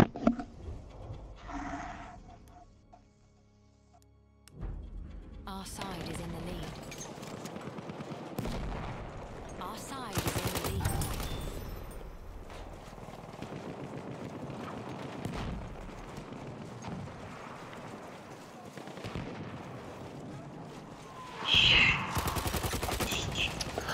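Rapid automatic gunfire sprays in repeated bursts in a Battlefield 1 team deathmatch, loud and close, mixed with other battle noise.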